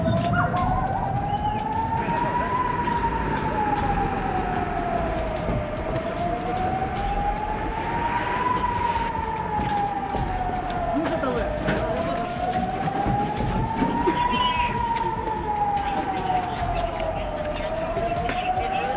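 A fire brigade siren wails steadily, rising and falling in slow smooth sweeps about every six seconds, loud and continuous over a rumbling street background.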